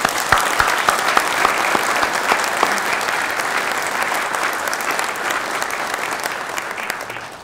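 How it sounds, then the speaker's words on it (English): Sustained applause from a crowd at a Nashville Fire Department commendation ceremony, dense steady clapping that carries through the whole stretch and tapers slightly at the end. "let's give everyone in this great department a hand of applause"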